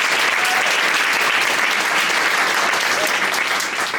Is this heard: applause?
yes